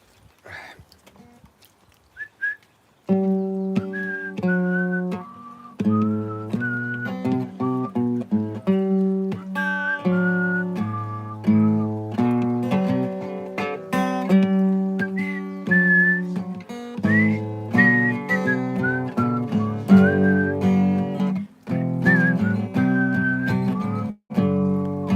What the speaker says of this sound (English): This song has whistling in it